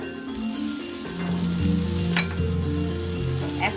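Ginger, garlic and cumin paste sizzles in a pan while being stirred for a pigeon curry, with a steady close frying hiss, occasional spatula scrapes and light clinks, and no voices.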